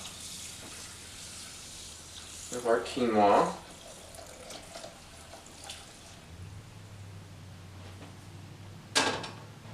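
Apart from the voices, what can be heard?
warm water poured over quinoa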